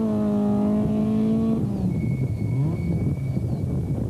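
VW Golf rally car racing on a road stage, heard with a strong rising engine whine that then drops off into a rough rumble as it pulls away into the distance.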